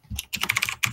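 Fast, loud clacking of a computer keyboard, with rapid uneven keystrokes heard up close and no talking over them.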